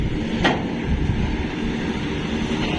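A long freight train of fuel tank wagons rolls through Utran railway station, a steady low rumble with faint wheel noise at moderate distance and no voices.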